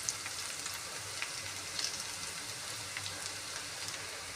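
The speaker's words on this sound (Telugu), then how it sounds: "ఇప్పుడైతే అల్లం వెల్లిగడ్డ వేసుకుందాం." Ginger garlic paste frying in a pan with fried onions for a brinjal curry makes a soft, continuous crackling sizzle with scattered pops, fairly quiet and close.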